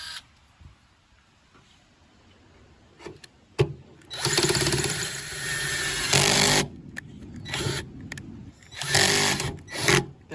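A power drill bores a hole in the body of a Dodge Charger police car, running in several loud, sustained bursts separated by short pauses, heard close up.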